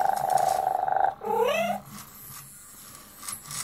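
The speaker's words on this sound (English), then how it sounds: "Oh, there she purrs." A Zoomer Kitty robotic toy cat's purring buzz pulses rapidly, then breaks into a short warbling, electronic-sounding yowl before fading into quiet clicks.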